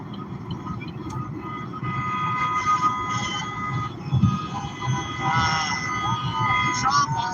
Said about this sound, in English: this train is still coming